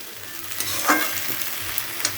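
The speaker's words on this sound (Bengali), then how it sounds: "এটা আমি হালকা হালকা ভেজে নেব" Spring onion stalks sizzle in a pan, a continuous close frying hiss broken by a few scraping stirs, with no voices.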